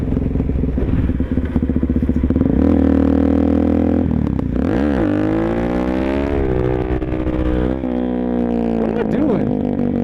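A motorcycle engine revs and drones steadily while being ridden, its pitch climbing and sliding as the throttle changes, loud and close throughout.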